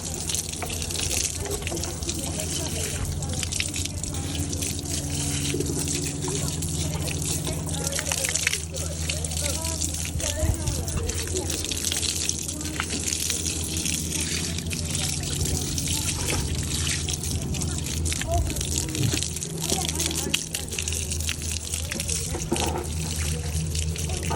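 Ice-cold water runs steadily from a hose while rinsing mud off a horse at the barn, a continuous splashing trickle close by with a person talking over it.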